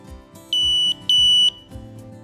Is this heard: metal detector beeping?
yes